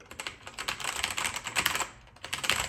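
Rapid typing on a Macally MKey rubber dome keyboard clacks away in irregular bursts, close and fairly quiet, with a brief pause before the keystrokes resume.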